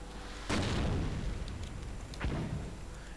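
Mortar fire in a World War II strategy video game, with two heavy booming blasts about two seconds apart over a constant low battlefield rumble.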